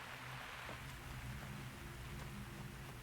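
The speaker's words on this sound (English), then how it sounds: "the rain." Steady rainfall in Myst Online: Uru Live, a soft, even hiss of drops that stays constant and fairly quiet throughout, with a low hum underneath and no voices.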